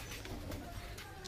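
Pigeons coo softly in a home loft of Najra Kaldum birds, a low murmur of repeated calls running steadily under a faint background hiss.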